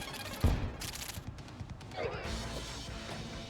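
A grenade going off in the video game Terraria: one sharp blast followed by crackling, rattling debris that fades over a few seconds, with a voice speaking faintly.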